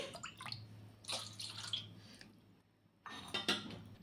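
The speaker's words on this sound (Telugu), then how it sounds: "ఒక హాఫ్ కప్పు అన్ని నీళ్ళు అయితే వేసుకోవాలి" Half a cup of water is poured into a pot of cooled milk, a faint splashing trickle in two short bursts with a brief clink of utensils.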